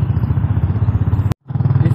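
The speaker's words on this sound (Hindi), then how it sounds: "पर बाइक का आवाज़ ज़रूर सुनाई देगा।" A motorcycle engine thrums at close range while riding, with a fast, even pulsing beat. It cuts out for a split second partway through, then resumes at the same steady rhythm, with no talking.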